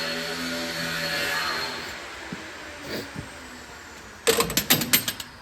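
Half-inch spanner being worked on a two-stroke Detroit 6V92 engine in a Ford LNT9000 truck, heard as a cluster of sharp metallic clicks and clanks near the end after a softer stretch of rustling.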